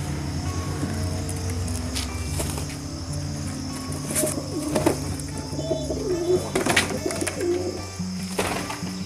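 Pet pigeons coo steadily after being released from their coop, soft repeated throaty calls layered over one another with a constant background hum and no talking.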